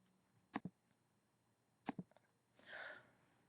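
Two quick sneezes, each a sharp double burst, followed by a breathy exhale, all in a quiet room.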